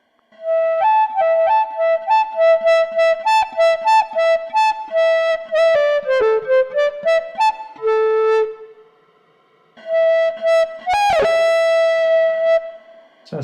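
Electric guitar notes and chords with heavy overdriven distortion, played in short bursts with brief pauses, loud and close.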